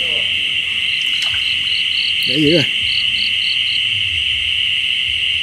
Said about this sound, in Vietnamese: Ô ếch khủng luôn các bạn ơi.